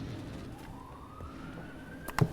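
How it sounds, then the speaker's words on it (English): An Austin Police Department siren wails at a distance in Austin, Texas, a thin rising tone faint under a steady indoor hum, with a brief close knock near the end. "The sirens you hear are the Austin Police Department"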